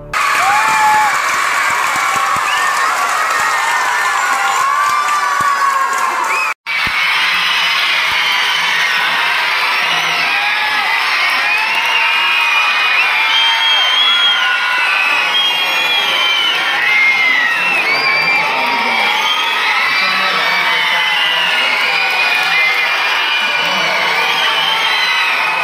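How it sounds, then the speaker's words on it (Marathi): School students in a crowd cheer, shout and clap continuously, a loud, sustained roar of young voices and whoops with a brief cut partway through. "आपल्या शाळेचं नाव घेताच विद्यार्थ्यांनी जल्लोष व्यक्त करून आनंद केला"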